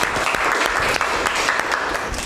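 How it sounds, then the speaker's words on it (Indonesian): A classroom audience at a teaching practice session breaks into steady applause, dense overlapping clapping that runs unbroken and fairly loud from start to finish with no voices on top. "Tepuk tangan dulu."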